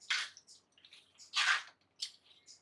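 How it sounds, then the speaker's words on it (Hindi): Water poured in short splashing bursts while cooking kadai gosht in a pot, three distinct close pours with brief drips between them, no talk. "अभी दही के बर्तन में हमने पानी डाला है। थोड़ा पानी भी डालते हैं।"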